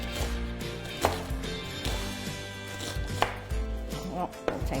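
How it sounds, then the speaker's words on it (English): A knife chops an onion into very small pieces on a cutting board, a fast steady run of close, crisp knocks with a few louder thumps, no talking. "And then I chop the onion."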